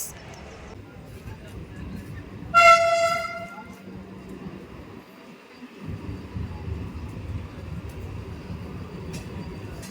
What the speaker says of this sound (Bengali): আমাদের পাশে দিয়ে চলে যাচ্ছে বন্দে ভারত এক্সপ্রেস